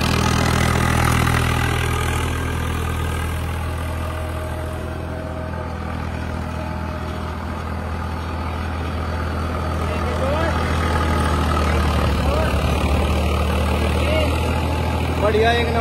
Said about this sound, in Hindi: नॉर्मल ट्रैक्टर चल रहा है, कोई RPM ड्रॉप कुछ नहीं है,